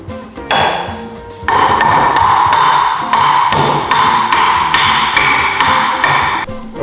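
Mahogany door pieces joined with dominoes are knocked together in a steady run of sharp, close wooden taps and thuds, repeated rapidly over several seconds with brief pauses between bursts.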